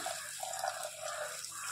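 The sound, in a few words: pouring pea cooking water into curry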